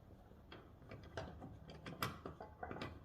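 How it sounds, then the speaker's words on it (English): A ratchet wrench tightens a 17mm bolt on a seat belt anchor in a supercharged 2010 Audi B8 S4, giving quiet, close clicking and mechanical rattling with irregular strokes. "Now let's bolt down this belt here with the 17mm bolt."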